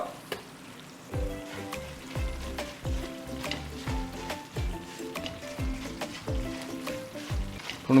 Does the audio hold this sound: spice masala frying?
yes